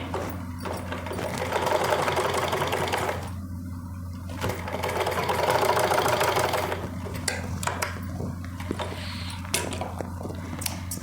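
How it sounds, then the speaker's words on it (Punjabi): A sewing machine runs in two steady bursts of rapid stitching along a seam of a Punjabi salwar suit, a loud whirring hum with short pauses and light handling clicks between, close and without speech. "ਹੁਣ ਆਪਾਂ ਕੀ ਕਰਾਂਗੇ ਇਹਨੂੰ ਤੇ ਸੀਨ ਲਗਾ ਲਾਂਗੇ"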